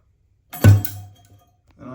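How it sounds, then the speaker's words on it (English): A toilet tank is flushed with the handle held down during a fill valve replacement, giving an abrupt close rush of water that settles into a steady low draining gurgle over about a second. "we're going to go ahead and flush it and hold it down until the tank is drained"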